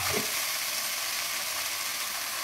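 Red chillies and vegetables sautéing in a pan give a close, continuous crackling sizzle, steady and dense, with a brief stir at the start.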